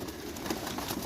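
Pigeons in a rooftop loft cooing softly and close by, with a sudden louder rustle or flutter at the very end.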